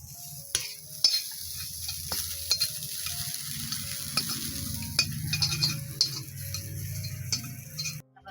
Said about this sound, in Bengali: এই যে সাজনা পাতা ভাজা